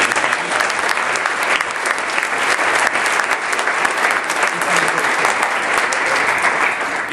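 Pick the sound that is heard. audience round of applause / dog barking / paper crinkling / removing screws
audience round of applause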